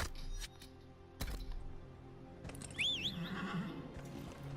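A horse in the video game Dragon Age: Inquisition gives a loud, rising whinny after scattered hoof clip-clops and thuds, with no talking.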